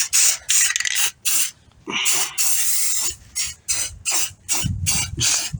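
A spray bottle of cleaner mists onto a solar garden light in a run of short, sharp hissing bursts, close and fairly loud, with brief quiet rubbing between some of the sprays.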